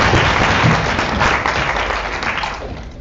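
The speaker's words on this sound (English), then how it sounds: "can we have a round of applause for all of the speakers?" Dense applause from a university debate audience, loud and continuous across the whole stretch and easing slightly toward the end, with no talking over it.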